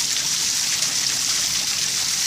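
A homemade scrap-built waterwheel generator spins and throws water around, a constant loud hissing splash with no breaks.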